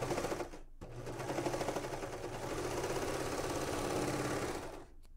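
A sewing machine stitches faux fur for a classic blouse in one steady, continuous run, close and loud, starting after a brief pause and stopping near the end, with no talking.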